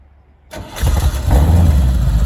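A Corvette engine cranks and catches after a moment of near silence, then settles into a loud, steady idle with a brief rise in revs, heard close with no talking.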